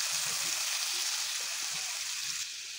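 Chopped tomato frying in hot oil in a pan, a steady close hiss of sizzling that carries on without a break and eases slightly near the end, with no voices.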